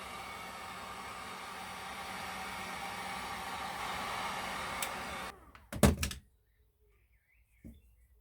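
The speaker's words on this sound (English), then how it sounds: "we'll just have a go with the heat gun now, just to get the general shape" A heat gun blows hot air onto clamped 3D-printed parts for a carbon fibre motorcycle mudguard, giving a steady broadband whoosh for about five seconds before it cuts off with a few clunks, then near silence.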